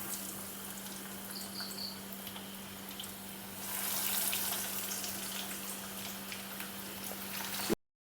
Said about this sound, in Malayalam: ചട്ടി ചൂടായി വരുമ്പം ഓയിലേക്ക് ഇട്ട് കൊടുക്കാം